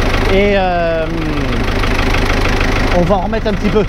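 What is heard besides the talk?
tractor engine running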